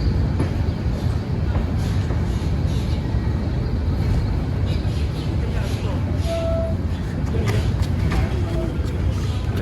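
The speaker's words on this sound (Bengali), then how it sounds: "আর এটা হচ্ছে ট্রেনের পরিবেশ" Steady rumble of a passenger train running from Dohazari to Cox's Bazar, a continuous loud rolling drone with faint clatter throughout and a brief higher tone near the middle.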